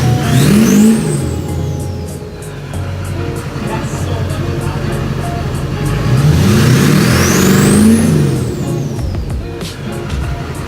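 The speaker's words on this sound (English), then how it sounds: "start the truck, and give it some revs" A diesel Duramax LLY truck engine with a new 3-inch downpipe revs up twice, each time climbing to a loud roar and then settling back to a steady rumble.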